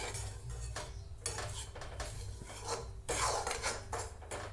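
Rava upma roasting in a pan as buttermilk goes in, heard as close metal scraping and stirring against the pan in repeated strokes, without talking.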